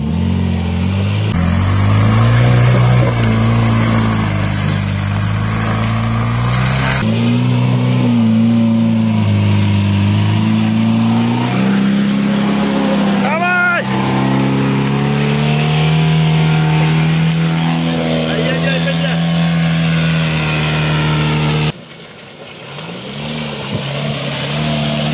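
Car engine revving and pulling hard on a forest trail in rear-wheel drive with MTX, a loud, steady drone with rising and falling pitch as it gains momentum, easing off briefly near the end.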